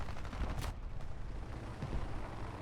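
Vehicle gunfire in the War Thunder video game comes as a rapid, dense string of shots with one sharper burst early on, fairly loud against a constant rumbling game backdrop.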